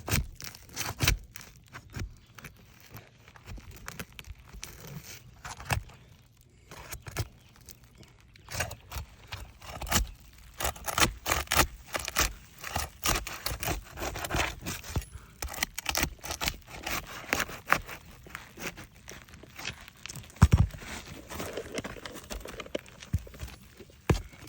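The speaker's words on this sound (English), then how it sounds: "I have to break the tar strip on the ones above it to get to the nails" Asphalt roof shingle tar strip being pried and broken loose to reach the nails, a run of irregular close scraping, tearing and cracking sounds with knocks, no talk.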